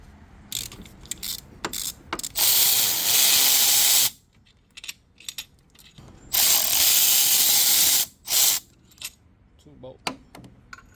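A hand ratchet loosens 13 mm bolts on a BMW M4 during an AC repair, with two long bursts of rapid clicking separated by scattered taps, clinks and tool handling up close.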